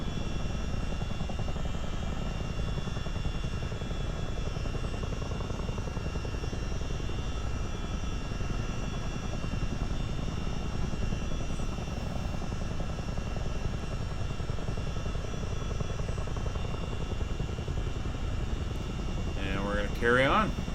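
A CH-47 Chinook helicopter flying low-level VFR near Lake Huron and Georgian Bay, heard from inside as a loud, constant rotor and engine drone throughout, with a brief voice over the noise near the end.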